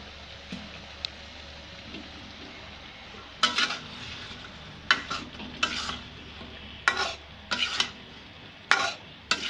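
Potato, cauliflower and bean vegetables being stirred in a pan, a low background sizzle punctuated by about seven sharp scraping strokes of a spatula in the second half, close and clear with no speech.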